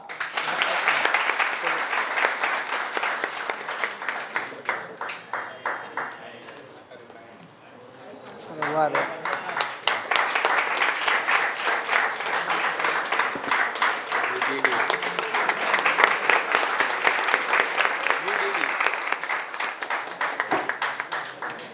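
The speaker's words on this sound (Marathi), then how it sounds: "सर्वांनी टाळ्या वाजवा" Class students at an academy in Wardha applaud loudly at the unveiling of a YouTube button, dense clapping that dips briefly midway, then swells again and keeps going, with talk mixed in.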